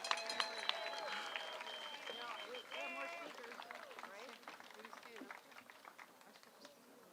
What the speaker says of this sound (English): Can we get one more giant round of applause